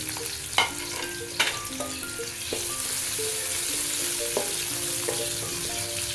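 Onion frying in a spoonful of ghee in a kadhai, cooked outdoors, with continuous crackling sizzle broken by a few sharp spoon knocks against the metal pan.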